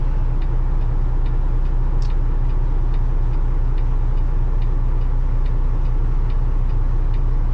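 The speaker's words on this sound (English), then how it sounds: "Only thing I don't like about that bull bar I put on the front of my truck is you can hear it rattling around." A bull bar mounted on the front of a truck rattles in fast, light ticks over a steady low engine and road drone inside the moving cab, with no one talking.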